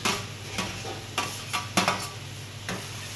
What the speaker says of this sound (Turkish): Patlıcanı ilave ediyorum.